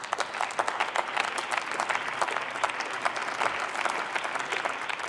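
A parliamentary chamber fills with steady, dense applause from many hands, moderately loud and continuous throughout with no speech over it.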